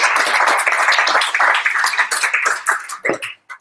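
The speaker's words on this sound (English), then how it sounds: "first of all, round of applause" Close, loud applause from a small meetup audience, brisk clapping that thins toward the end into a few separate claps before stopping.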